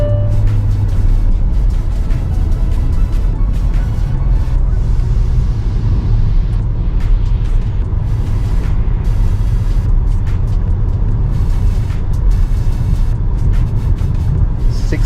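Steady low road rumble and tyre roar inside a Hyundai Verna sedan cruising at 80 km/h, a continuous even drone with faint higher hiss throughout and no talking.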